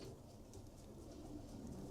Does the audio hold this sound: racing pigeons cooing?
yes